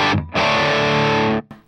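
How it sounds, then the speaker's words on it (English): A short, loud burst of distorted electric guitar through the distortion channel of an Andrews Para Dyne 50 amp: a brief choppy attack, then one sustained saturated chord ringing for about a second before cutting off. "now with the distortion channel, let's hear some of what it has to offer real quick"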